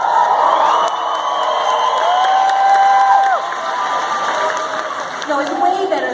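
At CCXP, a large audience applauds and cheers loudly for several seconds, with shouts and whoops rising above a dense crowd roar that fades slightly near the end.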